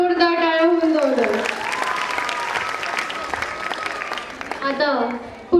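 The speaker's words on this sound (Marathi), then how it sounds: "तरी कृपया त्याच्यासाठी जोरदार टाळ्या होऊन जाऊ द्या" An audience applauds at a pre-primary school's annual gathering, a sustained, full round of clapping from a crowd. A voice speaks at the start and end, and a quick tone sweeps through near the close.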